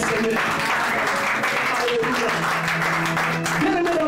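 A church congregation applauds and acclaims the Lord, a sustained roar of clapping and cheering, with a voice speaking over it.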